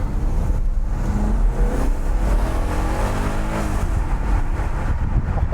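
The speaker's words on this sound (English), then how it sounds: "what a noise from a stock exhaust" A Maserati Quattroporte with its stock exhaust revs and burbles steadily, a loud, continuous deep engine roar heard from inside the car with no talking.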